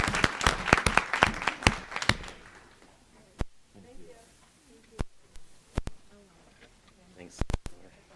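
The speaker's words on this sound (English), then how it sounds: "Another round of applause." An audience at a school board meeting applauds students, a burst of dense clapping that fades within a couple of seconds, followed by a few scattered sharp claps and soft talk.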